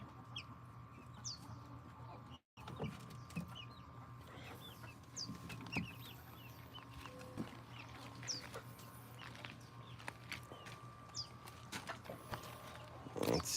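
Homestead chickens cluck softly and repeatedly in a quiet yard, scattered irregular calls over a steady low background hum.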